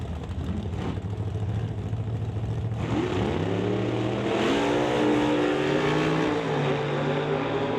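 A Hemi-powered Mopar Duster door-slammer drag car roars down the strip, its engine note climbing steadily through rising harmonics as it accelerates hard; loud, continuous and close, with crowd and track ambience beneath.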